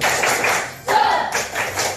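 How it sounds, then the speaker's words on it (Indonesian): A group of children performs the rhythmic tepuk semangat spirit clap in a classroom lesson, patterned bursts of claps and taps in quick sets separated by a short pause, with no voices. "mari kita tingkatkan semangat kita dengan tepuk semangat"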